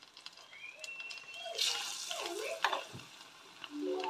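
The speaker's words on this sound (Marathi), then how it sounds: "घोळून घेते बेसनच्या बॅटरमध्ये आणि तो आपण ऑइलमध्ये टाकूया" Aloo vadas coated in besan batter drop into hot oil and fry with a loud, bubbling sizzle that swells and crackles steadily, with a few clinks from a utensil near the pan.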